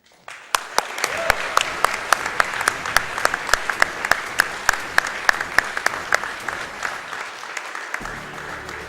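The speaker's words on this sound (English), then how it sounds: "I'd like to give a big round of applause for everybody that's involved in Summer Games Done Quick 2015" An audience at Summer Games Done Quick 2015 breaks into loud, sustained applause after a Megaman: The Wily Wars Wily Tower speedrun finish, sharp claps cutting through before it fades.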